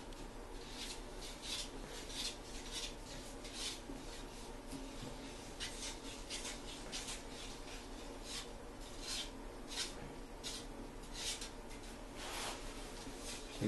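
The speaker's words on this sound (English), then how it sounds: "Says it has to be stirred for 2 minutes." A bathtub reglazing mixture being stirred by hand gives a continuous close scraping and rubbing, with steady rhythmic strokes at low, even loudness and no voices.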